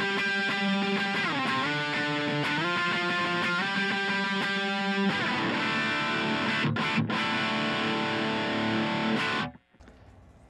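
Electric guitar played through a Boss Katana Mini amp with a scooped, brown-style distortion, sustained chords ringing loud and thick for about nine seconds before cutting off abruptly.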